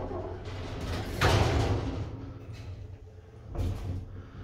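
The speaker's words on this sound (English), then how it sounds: "Mind the doors, please." Sliding lift doors in an old 1970s brutalist shopping centre in Glasgow, heard as a steady mechanical rumble with a whooshing surge of movement and a later softer shift, close and continuous with no talk.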